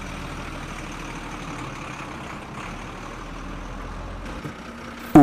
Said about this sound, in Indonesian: Itu mobil siapa?